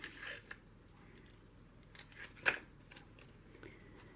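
Tape pressed and torn along the side of a handmade smash book cover: faint, close, crinkly snaps and rubs in a few brief bursts.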